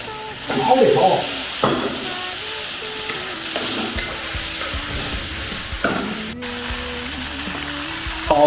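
Pork trotters stir-fried in a hot wok with oil and a splash of baijiu, giving a steady sizzle and the scrape of stirring throughout, with a louder burst of frying near the start.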